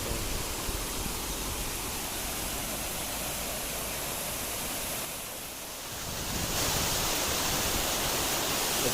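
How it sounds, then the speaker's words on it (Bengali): A small mountain waterfall spills over large rocks in Bidyang Valley, Kalimpong, giving a steady, full rushing wash of water that dips briefly partway through and then swells back louder and brighter. "এখানে একটা ছোট্ট ফলসের মতন হয়ে গেছে"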